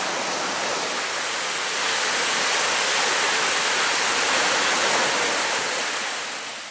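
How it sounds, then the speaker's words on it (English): The Chapel River at Pictured Rocks on the Michigan lakeshore: a dense, steady hiss of rushing water, loud and close, swelling slightly in the middle, with no voices. "It should be the Chapel River."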